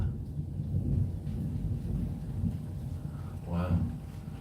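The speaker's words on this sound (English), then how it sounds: "Can you hear that thunder?" Low rumbling thunder rolls continuously through the whole stretch, fairly strong and broad, with a brief voice speaking over it near the end.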